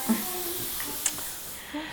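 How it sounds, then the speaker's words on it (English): Hairspray from an aerosol can is misted onto freshly curled hair to set loose waves, giving a steady soft hiss with a brief sharper puff, heard close up. "I'm just going to give it a little spray of hairspray just to set the curls a little bit."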